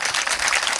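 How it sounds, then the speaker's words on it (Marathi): An audience at a Shiv Mahapuran katha gathering claps in a brief, dense burst of applause that stays even throughout. "एकदा जोरदार टाळ्या झाल्या पाहिजे रुपाली ताई."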